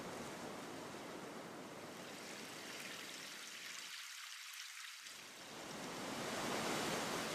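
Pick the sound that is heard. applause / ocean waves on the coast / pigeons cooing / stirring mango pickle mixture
ocean waves on the coast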